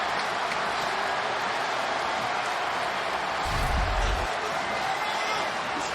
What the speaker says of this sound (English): You can hear the Tulane fans cheering because they're looking at the replay on the big board above.